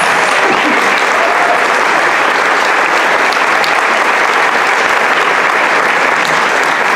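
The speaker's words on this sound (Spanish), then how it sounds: "Un aplauso para su director." Sustained, dense applause from a concert audience honoring the director of the Mexico City gay choir, filling the hall steadily from start to finish with no speech.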